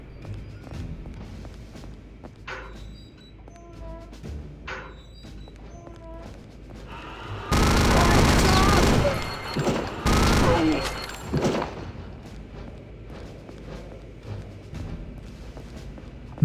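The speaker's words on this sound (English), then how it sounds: "Now I have a chain gun" A chain gun fires in the video game RealRTCW, a dense, loud burst of rapid automatic fire lasting a few seconds, followed by scattered shots and booms amid quieter game ambience and faint voice.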